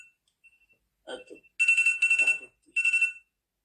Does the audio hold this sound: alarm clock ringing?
yes